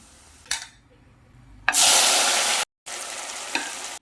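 Bitter gourd slices frying in oil, with a loud, hissing sizzle that swells as the pieces are stirred. It cuts out briefly, then resumes, close up, after a quieter start with a single clink.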